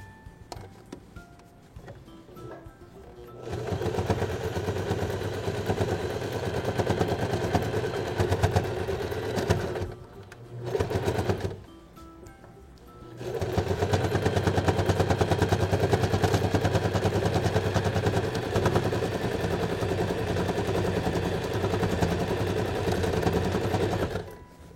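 A sewing machine stitching fabric for a backpack, running in long steady bursts of rapid mechanical chatter with short pauses between the runs, close and loud.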